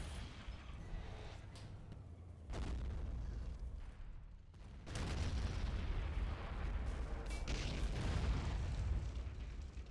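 Booms and bursts of gunfire in the World War I strategy game Battle of Empires: 1914-1918, set at the Battle of Cambrai, rolling on in dense, overlapping waves of distant and closer blasts that swell louder after the midpoint.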